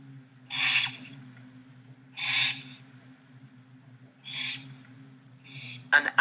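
An owl hooting at night, with three clear, evenly spaced hoots and a fourth starting at the end, close and loud over a steady low hum.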